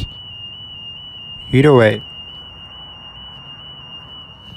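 A continuous high-pitched electronic alarm tone sounds steadily inside an abandoned Cracker Barrel restaurant in Bend, Oregon, a constant whine in the background while a person briefly speaks.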